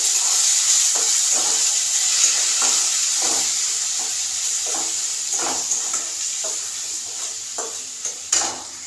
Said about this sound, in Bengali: হলুদ গুঁড়ো 1 চামচ, ধনে গুঁড়ো 1 চামচ দিয়ে এই পেস্টটা আমি এতে দিয়ে দেবো। ভালো করে কষাতে থাকবো।